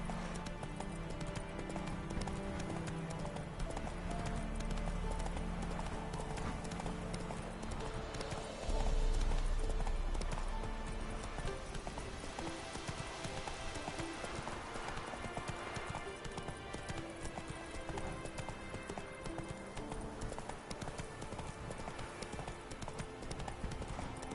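Hoofbeats of a horse galloping in The Witcher 3 video game, a continuous, rapid clip-clop under dense game ambience and score, with a brief louder thump partway through.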